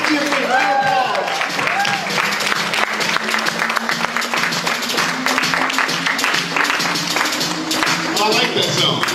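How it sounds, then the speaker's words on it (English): An audience applauds for a man introduced as Antonio Smith Jr., steady clapping filling the room throughout alongside talking voices and a pulse of music. "So let's give a round of applause for Antonio Smith, Jr."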